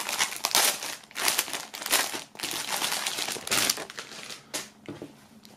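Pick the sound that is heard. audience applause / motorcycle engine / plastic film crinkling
plastic film crinkling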